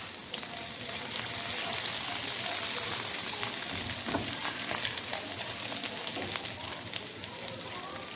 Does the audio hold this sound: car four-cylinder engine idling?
no